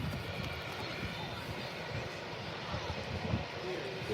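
A plane with a grey belly and retro-style livery at Manchester Airport, its engines a broad continuous roar, loud and steady, with people talking at times.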